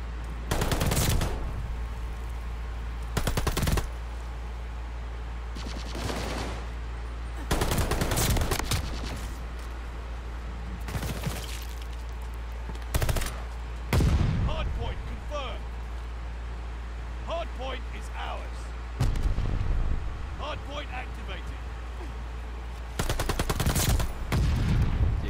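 Video game gunfire comes in repeated loud bursts of rapid shots separated by quieter stretches, with a steady low hum underneath throughout.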